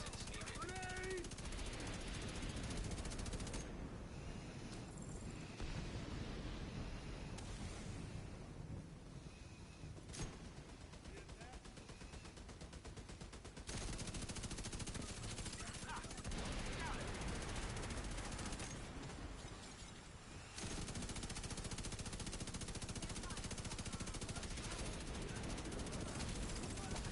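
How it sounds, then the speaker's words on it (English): Sustained automatic gunfire and shooting from The Division 2 during master and manhunt missions, loud and dense with near-continuous bursts, brief lulls and a voice calling out over the combat. "Opening fire!"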